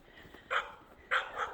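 Two short, sharp dog barks or yips, a half-second apart, from dogs met along a country road, fairly close over a quiet background.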